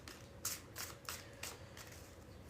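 A deck of tarot cards is shuffled up close, a series of about six quick riffling bursts at an uneven rhythm, soft and crisp against faint room hiss.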